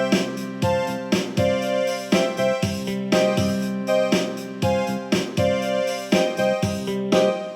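A Casio CT-X5000 electronic keyboard plays a steady rhythmic rock accompaniment with repeated chords and drum beats, loud and close, with no voices.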